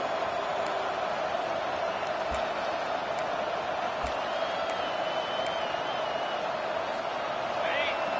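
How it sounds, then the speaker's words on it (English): A home crowd roars at a college football game between Ohio State and Penn State as the defense faces third down, a dense, steady wall of cheering with commentary heard over it. "Here comes this home crowd as the defense tries to get off the field on third down."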